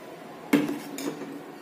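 A spoon clinks against a pot of milk as it is stirred while curdling with added liquid for homemade paneer, two sharp metallic taps over a quiet background.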